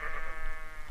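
Tar-soaked sheep in BlightFall giving a single short, nasal bleat, close and fairly loud, fading out within the second.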